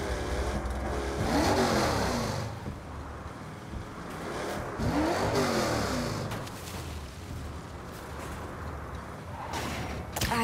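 A car engine in the video game Saints Row revs up twice while driving, each time climbing to a loud rising whine before easing back to a steady, rumbling drone.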